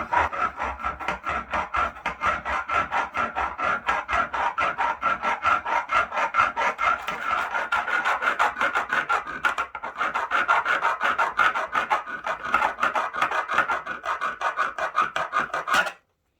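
A coffee and walnut cake being cut in half with a cake saw, a steady close rasping of rapid back-and-forth strokes that runs without pause for about sixteen seconds, then stops abruptly.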